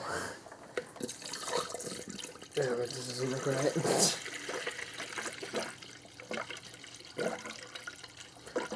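Coolant glugs and splashes as it is poured in a steady stream into a Dodge Ram 5.7L Hemi engine, with people talking over it and a brief louder gush midway.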